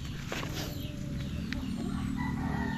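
A young bull stag rooster, a gold-feathered gamecock, crows close by against steady farmyard background noise, with a clear rising call near the start and fainter clucking after.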